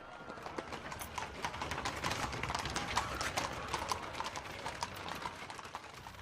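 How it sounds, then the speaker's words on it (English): Steady clip-clop of horses' hooves on a hard surface, a continuous rhythmic clatter of several hooves at moderate distance. "Only then would the horses move on."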